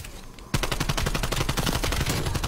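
Rapid automatic gunfire in Call of Duty Black Ops Cold War bursts in after a short lull, a dense, loud stream of shots continuing to the end.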